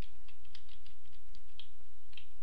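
Clackety computer keyboard keys tapped in quick irregular bursts, close and fairly faint, with no voices.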